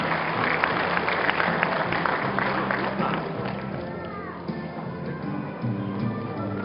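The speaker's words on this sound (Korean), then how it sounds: "큰 박수로 축하해 주십니다." An audience at a university graduation ceremony claps, a dense burst of applause that gradually thins and softens, with a voice briefly over it.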